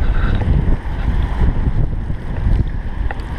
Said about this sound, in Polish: Wieje, wieje. Jeszcze raz wieje.